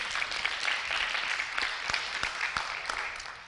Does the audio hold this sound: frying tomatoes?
no